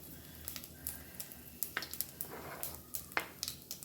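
Mustard seeds and curry leaves crackling in hot ghee for pineapple gojju, a quiet bed of sizzle punctuated by small sharp pops and spits at irregular intervals, close and soft.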